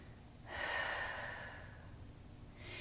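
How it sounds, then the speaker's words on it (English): One long, deep breath taken during a seated yoga twist, a soft airy inhale swelling and then easing out, close and gentle, followed by the start of another breath. "Take a big breath here."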